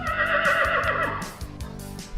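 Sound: horse neighing

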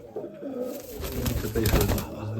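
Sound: Mykolaiv pigeons cooing

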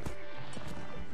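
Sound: horses running, hooves in Mount & Blade video game

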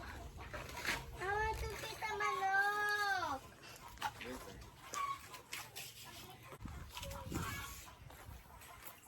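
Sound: chickens clucking

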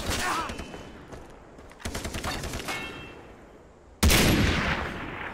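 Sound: gunfire in the video game Far Cry 3

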